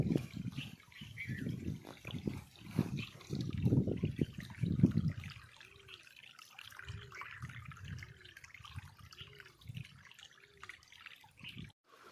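Cold well water pumped up by a motor pours out in a steady, splashing stream, with soft intermittent chirps over the flow.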